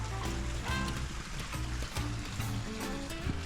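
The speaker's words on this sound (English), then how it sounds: "Sound of running water" Water running in a stream through a village garden in the Cotswolds at Broughton Poggs, a steady, moderately quiet rushing and burbling that carries on throughout with no talk.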